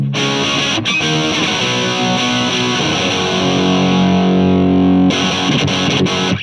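Electric guitar through a PAL800 V4 overdrive pedal set for a hot-rodded Marshall tone: loud, sustained distorted chords ringing for several seconds, a brief cut, then another crunchy chord struck.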